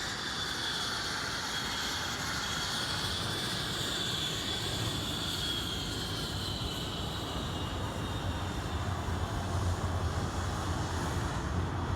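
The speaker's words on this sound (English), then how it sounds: "the sound of the Orpheus jet echoing through the hills." The Orpheus jet engine of the blue Bluebird speed boat runs on Loch Fad in Scotland, giving a loud, continuous roar with a high whine layered over it. The sound holds steady for the whole stretch, with no talking.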